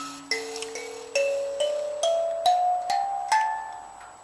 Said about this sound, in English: the tenor keys, and they sound like this.